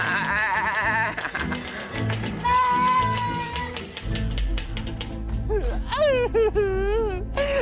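A goat bleats several times in wavering, quavering cries, close and loud, mixed with music and bursts of laughter from a cartoon scene.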